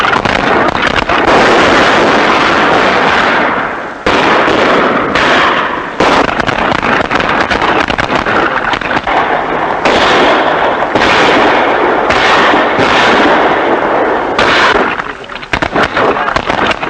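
Rapid, dense bursts of gunfire, loud and close, crackling almost nonstop with brief gaps, as in a dramatized battle scene from the Mexican-American War of 1846 to 1848.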